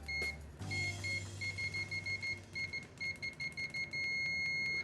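An Aneng M10 multimeter on continuity test with its default probes gives loud, high beeps in quick irregular bursts as the probes touch, broken by brief gaps and ending in a longer held tone.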